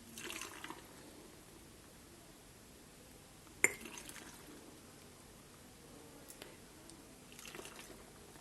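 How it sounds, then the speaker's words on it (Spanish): Hot sugar syrup is poured into glass jars packed with melon for preserving. The faint liquid pouring and trickling comes with a sharp clink of glass partway through and a few softer knocks later. "lo que vamos a hacer ya es llenar nuestros botes"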